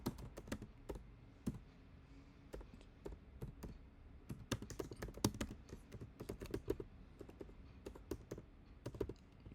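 Code being typed on a computer keyboard, with irregular bursts of crisp key clicks and taps, close and fairly quiet, with no voices.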